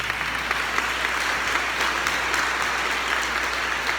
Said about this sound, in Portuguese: Aplauda a Virgem Maria.